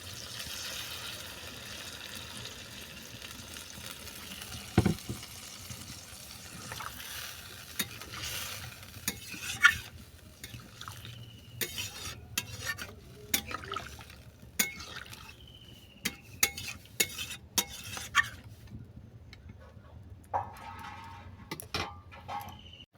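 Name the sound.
chicken curry simmering with added water, stirred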